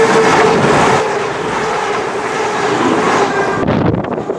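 A train at Sandwell and Dudley station on the Stour Valley Line between Birmingham and Wolverhampton gives a loud, steady rumble with wind buffeting the microphone, then the sound thins out abruptly near the end. No one speaks.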